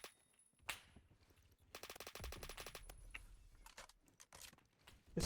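Rapid automatic AK-12 gunfire in the shooter game Phantom Forces, a fast rattling burst mid-clip among scattered single shots and bursts, fairly quiet overall.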